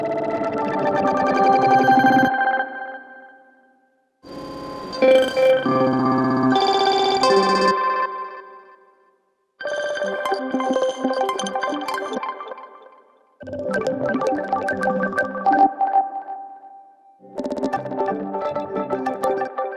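Several short bursts of glittering, processed granular synth crystal texture in Phase Plant, each a few seconds long and separated by brief silences, shimmering and distorted, no voices.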